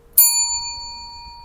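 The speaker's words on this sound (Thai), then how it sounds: "กดกระดิ่ง" A single bright bell ding strikes once and rings out with a long, clear fading tone.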